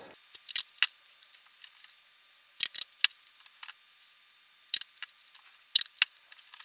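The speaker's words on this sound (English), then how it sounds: "this is aluminum, so you actually can just cut it with a pair of regular scissors" Regular scissors cut through aluminum window screen in short clustered snips, crisp and close, separated by quiet pauses, with no talking.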